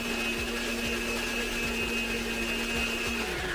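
An electric mixer beats egg into cream puff dough, giving a steady, close motor whir with a constant hum and soft periodic knocks as the beaters turn in the bowl.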